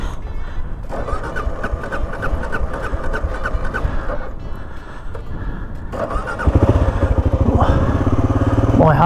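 Kawasaki KLR-650 motorcycle engine cranking and catching, the idle rising into a loud steady run after a rough start, with faint voices nearby.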